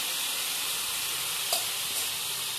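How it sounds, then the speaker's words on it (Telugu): Washed potato pieces fry in two or three spoons of oil in a pan, giving a steady, close sizzle that hisses on throughout, with a faint clink or stir near the middle. "ఒక ప్యాన్ తీసుకొని 2-3 స్పూన్స్ ఆయిల్ వేసుకొని అందులో వాష్ చేసి పెట్టుకుని బంగాళదుంపల్ని అందులో వేసి బాగా ఫ్రై చేయాలి"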